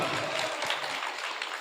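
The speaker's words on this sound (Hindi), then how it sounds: "एक बार जोरदार तालियां" Audience applause at an All India mushaira poetry gathering, a brief steady burst of many hands clapping that fills the space without pause and without any talk.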